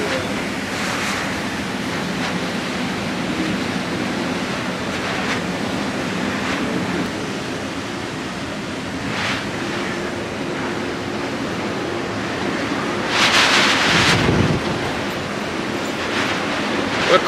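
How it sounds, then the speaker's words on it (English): Strong wind gusts buffet the microphone on a Carnival Pride cruise ship balcony at sea, layered over a steady wash of ocean waves, with a louder roaring gust near the end and no talking. "the wind is smacking against the backside of this thing and making a lot of racket."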